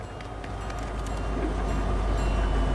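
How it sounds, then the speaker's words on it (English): A train approaches in the video game Fortnite, a steady low rumble of rolling rail cars that grows gradually louder over a few seconds, with no talk over it. "train's coming."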